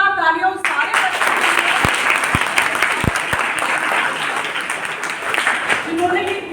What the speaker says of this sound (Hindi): तो जोरदार तालियां उस सारे बच्चों